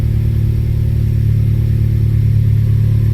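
A 2018 Honda Civic Type R engine runs steadily at close range, a loud, constant low rumble with a mid-range whooshing hum and no distinct rev spikes, heard alone without voices.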